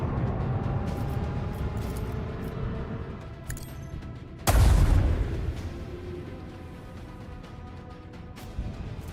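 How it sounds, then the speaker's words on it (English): Explosions during turn-based combat in Warhammer 40,000: Rogue Trader: one big, loud booming blast with a deep low rumble stands out midway, preceded and followed by quieter distant battle rumble and scattered pops. "Man, I love those explosions."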